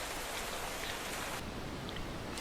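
Rain in modded Minecraft falls as a continuous broadband hiss, loud and even with no voices, its upper sizzle thinning out partway through.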